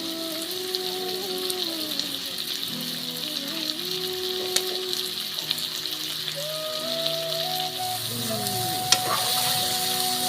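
Broiler chicken meat frying and sizzling over a fire in a pan, steady close crackle with intermittent stirring scrapes and clinks throughout, no talking.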